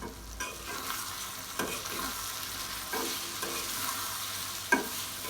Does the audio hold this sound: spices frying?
yes